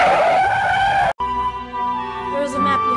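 A toy-city truck peels away with a sharp tire skid, the squeal cutting in after a brief silent gap and ringing out with engine noise, loud and close.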